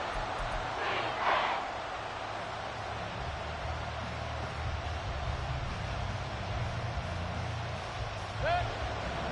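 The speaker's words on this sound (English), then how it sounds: "The Arrowhead crowd in full roar." Stadium crowd at Arrowhead in a steady, loud roar through a football game's late third-down moment, a broad continuous wash of cheering with a few brief shouts standing out.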